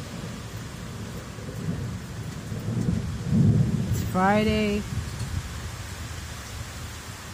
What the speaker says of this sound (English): taking a video of this storm today.